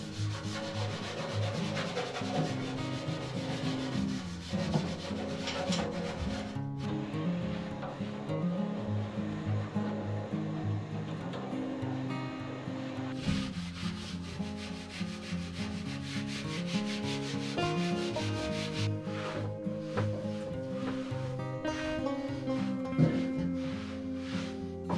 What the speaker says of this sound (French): C'est usant, hein, frotter pour enlever la graisse qu'il y a dedans.